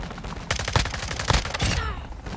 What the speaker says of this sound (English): Friendly chopper cannon servicing target.